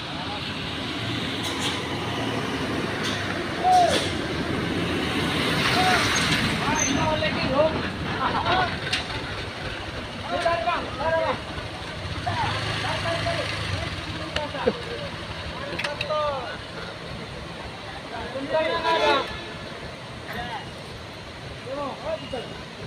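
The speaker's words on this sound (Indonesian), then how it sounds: "Udah dipastikan unitnya masuk gigi rendah" A truck creeps along in low gear on a road in Aceh, its low engine drone and rumble running steadily beneath nearby talking throughout.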